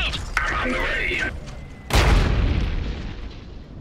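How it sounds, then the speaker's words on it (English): Artillery shell landing in the real-time strategy game Iron Harvest: one heavy, close boom with a rumbling tail, right after a short in-game voice line. "Incoming artillery!"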